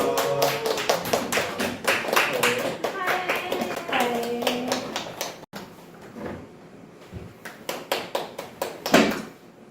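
Short bursts of hand clapping at a church youth group worship service, honoring attendance award winners, mixed with a person talking over the first half before scattered claps continue alone.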